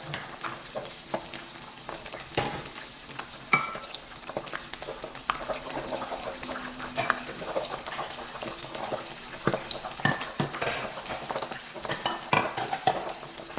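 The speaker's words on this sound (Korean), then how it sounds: "물 튕기는 소리가 막 들려요" Crackling, popping spatter of water hitting hot frying oil while cooking fish, with irregular sharp bursts, close by, along with a few faint utensil clinks.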